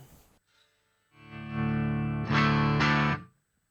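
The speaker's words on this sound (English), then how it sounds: "I'm going to change to, let's say, my amp peak clean sound" An electric guitar runs through a Boss Waza Tube Amp Expander on a clean amp setting, ringing out one sustained chord and then two strong strums after a brief quiet handling noise, with no speech.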